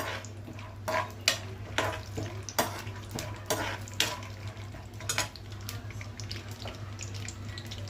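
Peanuts roasting in a pan for pulihora, a Telugu tamarind rice dish, with a steady low hum underneath and scattered clinks and scraping stirs of the pan throughout, fairly close and with no talk.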